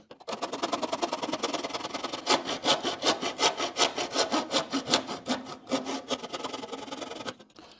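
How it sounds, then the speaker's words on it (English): A hacksaw cuts through a plastic model locomotive shop part with quick rhythmic back-and-forth strokes, close and crisp, steadying into a regular rasping beat. "I just took a hacksaw and cut right down through there."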